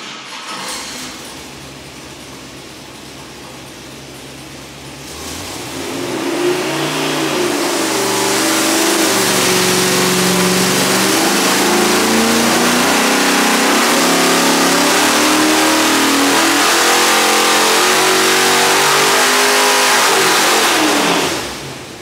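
A Ford engine in a cold shop sits at a low fast idle while warming up, then revs up and holds at a loud, steady, higher drone before dropping off at the end. It sounds close and runs without talk.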